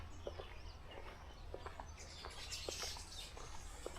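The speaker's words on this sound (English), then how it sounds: "I'm surprised it's almost midday, but you can hear some birds here." Faint, scattered bird chirps from nearby bushes around midday sound over a low background rumble, with brief tweets repeating irregularly.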